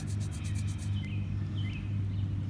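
Fingers rubbing dirt off a freshly dug coin found by metal detecting at an old house, a close, steady scratchy friction over a low background hum, with no talking.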